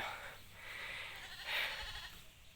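Goats on a farm bleat in drawn-out calls over a steady outdoor background, with one louder bleat in the middle and faint voices at times.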